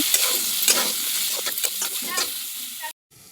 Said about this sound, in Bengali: তারপর আলুগুলো ভেজে নেব